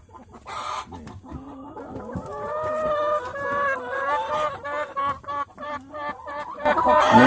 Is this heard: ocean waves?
no